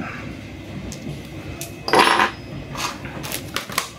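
Plates clinking in a household setting: a sharp bright ceramic clatter near the middle, with lighter scattered clinks and taps before and after, fairly close and with no speech.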